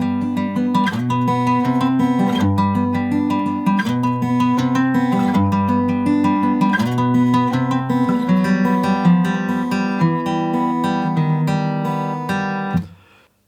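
Acoustic-style guitar in standard tuning playing the verse of a song, steady strummed chords with picked notes, close and clear with no voices, fading out at the end.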